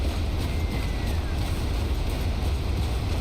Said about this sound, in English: Heard that waterfall.